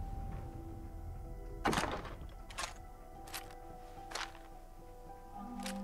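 A door being unlocked with a key in the video game Fallout 4 makes a series of quiet mechanical thunks and clicks: one heavier clunk followed by several short, sharp lock clicks spaced about a second apart over a low hum.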